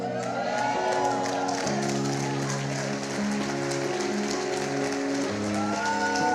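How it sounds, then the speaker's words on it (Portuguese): Church congregation applauding during a worship service, a steady dense wash of clapping that holds throughout, mixed with sustained keyboard music chords underneath. "Achei que nem ia render um aplauso."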